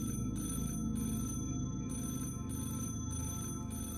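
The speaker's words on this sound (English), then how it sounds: "I stared at the phone as it rang." A telephone bell rings in repeated bursts with short gaps, steady and fairly loud over a low background hum, with no voices present.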